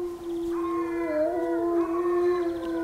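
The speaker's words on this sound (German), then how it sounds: "Und zwar handelt es sich um den Wolf." A wolf howls in a forest at night, a long wavering cry that rises, dips and bends in pitch, with layered voices overlapping, heard clearly over faint background noise.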